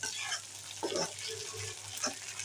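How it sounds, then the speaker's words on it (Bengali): Garlic paste fries in hot oil with a steady, close sizzling hiss that runs throughout over a faint low hum, with a few brief louder bursts. "এটাকে আমি ভালো করে তেলের মধ্যে ভেজে নেব"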